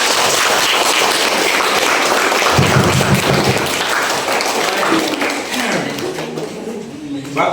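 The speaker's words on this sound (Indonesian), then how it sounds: "Tepuk tangan." Classroom applause from a class of high-school students after a group presentation, dense and steady throughout, fading slightly toward the end, with voices mixed in.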